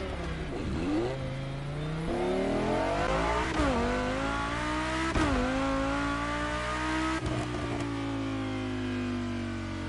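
Audi R8 engine in the racing video game The Crew Motorfest, repeatedly revving up through rising gear sweeps with shifts and brief drops, loud and close with no voices over it.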